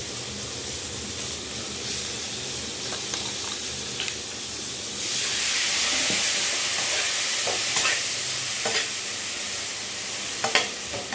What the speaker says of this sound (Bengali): মশলাটা সামান্য ভাজা ভাজা করে এবার জল দিয়ে দেবো